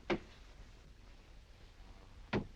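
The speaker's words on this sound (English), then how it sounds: "just the steam in the water pipes" Two sharp, isolated knocks from steam in water pipes ring out a couple of seconds apart against a quiet, faintly hissing background.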